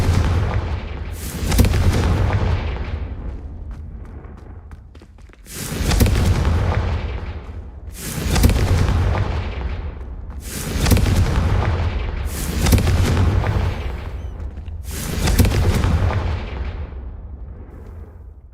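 Five heavy Confringo fire-spell blasts boom one after another in a Hogwarts Legacy fight. Each hits as a loud, close explosive burst that rumbles and fades before the next lands, spaced a few seconds apart.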